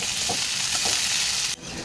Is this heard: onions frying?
yes